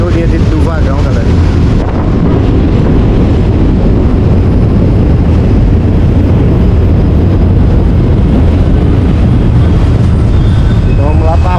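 A long passenger train pulls into a station in central Recife at night, its loud continuous rumble and clatter filling the scene up close, with people talking underneath.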